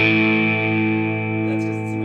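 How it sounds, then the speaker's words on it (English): A 1996 Fender Stratocaster Ultra electric guitar played through an always-on screamer overdrive pedal gives a sustained, distorted ringing chord that holds steadily and fades slowly, loud and close with no voice over it. "Oh, I forgot the reverb, or the screamer was on the whole time."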